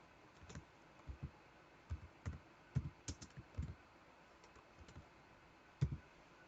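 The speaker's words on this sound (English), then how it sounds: "with the help of your keyboard you can type a question mark" Sparse, soft clicks of typing on a computer keyboard, in small irregular bursts with pauses between keystrokes, quiet and close, without any talking.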